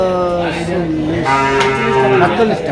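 Cattle moo loudly and close at a bull market in Chandina, Comilla, one long drawn-out low call filling the moment.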